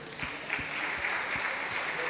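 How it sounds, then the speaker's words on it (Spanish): A small audience claps for Wilson at a talk on gastronomy and young entrepreneurs, a steady patter of hands for about two seconds, moderately quiet and somewhat distant. "Un aplauso para Wilson"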